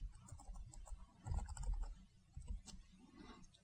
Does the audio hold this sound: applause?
no